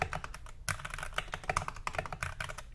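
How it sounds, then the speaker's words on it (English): Keys clatter on an iLovBee i61 budget mechanical keyboard in quick, uneven bursts of close, crisp clicks with brief pauses, and no voices. "what I find interesting is the combination of the sounds of the main keys with a backspace to enter into this"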